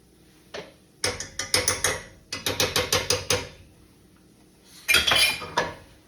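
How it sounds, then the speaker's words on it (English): Metal pans and racks clatter and clank in quick bursts of sharp knocks, loud and close, with a last flurry near the end as steaks go into a preheated oven in a home kitchen. "Steaks are going in the oven."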